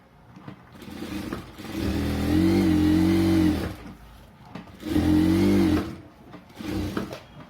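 A sewing machine stitches blouse fabric in two sustained motorized runs with a whirring hum, pausing briefly between bursts and starting again at the end.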